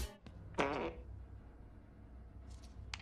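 A short, faint fart from the animated film Mary and Max, one brief low blurt near the start, with a couple of quieter ticks afterward and no talking.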